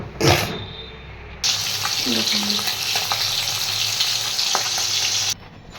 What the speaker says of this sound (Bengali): তেল বসিয়ে দিয়েছি মাছে ভাজবো তেলটা গরম হয়ে গেলে মাছটা দেবো